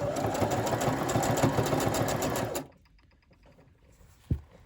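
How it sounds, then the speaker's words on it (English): Sewing machine stitching fabric for a junk journal craft, a fast steady mechanical whirr running loud and close for a few seconds, then stopping abruptly, followed by near quiet and a single soft knock. "So let's just stitch that."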